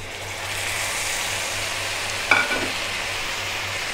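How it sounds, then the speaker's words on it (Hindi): Onions frying in a pan for bhindi masala: an even, moderate sizzle runs throughout, with one brief clink of a utensil partway through. "अब हम इसको अच्छे से हिलाएंगे और 3-4 मिनट तक इसको भूनेंगे"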